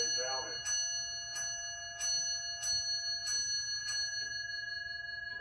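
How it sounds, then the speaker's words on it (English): An 1830 English clock movement chimes, its bell ringing with a sustained metallic tone and a series of regular light ticks or taps while a steady hum runs underneath. "That's just one bell strike. That's an English movement."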